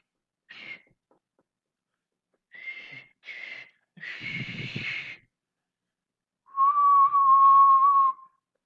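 A person imitates a whistle with their voice: a few short whistled chirps, a breathy burst, then one long steady whistle held for about two seconds.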